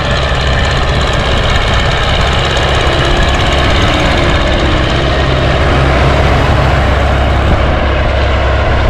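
A YuMZ tractor with a D-240 diesel engine cultivates a field for soybean sowing, its engine pounding out a loud, constant, rough drone close by from start to finish, with no talk.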